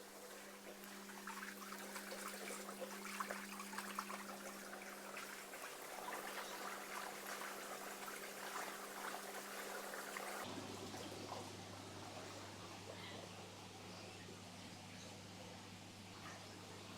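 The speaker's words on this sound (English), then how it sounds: "the about 150, 160 litres of salt water is being surging down into the display tank at the moment" Roughly 150 to 160 litres of salt water surges from a Carlson surge device down into a reef aquarium display tank, a steady close rushing and trickling wash that shifts in tone partway through, with no talking.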